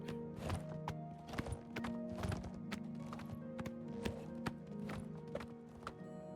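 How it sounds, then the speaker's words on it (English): Horses in Elder Scrolls IV: Oblivion Remastered walk with hooves clip-clopping in a steady rhythm, several moving nearby, with an occasional whinny over a low ambient drone. "There are horses out here."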